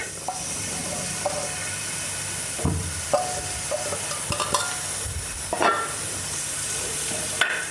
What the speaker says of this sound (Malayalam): നമുക്കതിലേക്ക് ഒരു രണ്ട് ചെറിയ സവാളയാണ് അരിഞ്ഞതാണ് അങ്ങോട്ടിട്ട് കൊടുക്കാം